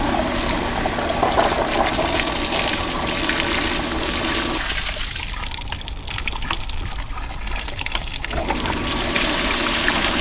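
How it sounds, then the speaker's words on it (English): An Intex pool filter pump running a backwash rushes and gushes water loudly and steadily, easing briefly partway through before the full flow returns, with no voices. "We'll go ahead and do a backwash."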